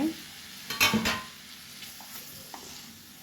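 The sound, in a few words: stirring masala-coated baby potatoes in a frying pan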